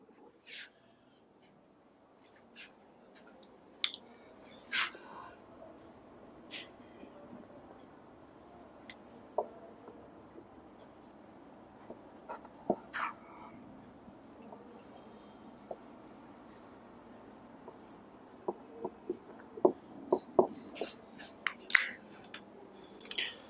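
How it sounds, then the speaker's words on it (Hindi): Chalk or marker taps and scratches come in short, scattered strokes against a board during a physics lecture on moving charges and magnetism, fairly faint over a quiet room. "मिटा दूं इसे, ऊपर लिख देता हूं"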